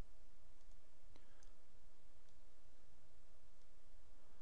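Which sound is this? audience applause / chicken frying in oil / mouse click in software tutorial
mouse click in software tutorial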